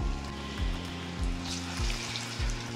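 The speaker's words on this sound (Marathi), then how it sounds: "मी गोल्डन ब्राउन होईपर्यंत त्याला चांगलं फ्राय करून घेतलेलं आहे" Cheese corn potato balls deep-frying in hot oil give a continuous bubbling sizzle, with a low repeating hum pulsing underneath at regular intervals.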